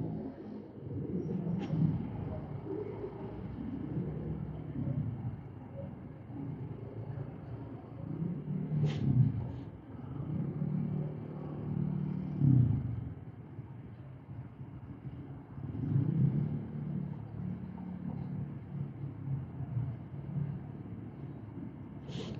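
A car drives through city traffic with a low engine and road rumble, its tone rising and falling in slow, repeated swells as it moves and slows. A few faint clicks break through now and then.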